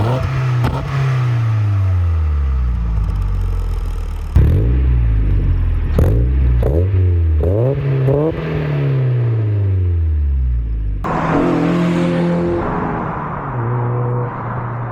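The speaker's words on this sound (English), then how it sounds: "This one's a Cobalt catback exhaust." Mazda MX-5 Miata fitted with a Cobalt catback exhaust revs repeatedly, rising and falling in sharp bursts with crackling blips between, loud and close, then settles into a lower burbling idle with a final rev.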